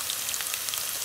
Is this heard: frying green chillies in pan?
yes